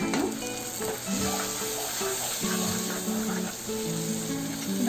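Spices, cumin powder, hing and salt frying in a pan for green gram curry, a steady close sizzle with occasional stirring scrapes, no talking.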